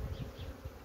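Honeybees crowd a hive frame during varroa brood treatment, giving off a steady, close, low buzzing hum that swells and dips slightly throughout, with no voices.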